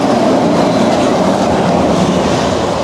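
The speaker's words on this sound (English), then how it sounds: "monorail." The Disneyland monorail train passes nearby with a loud, continuous rumbling roar and rattling rail noise, no talking.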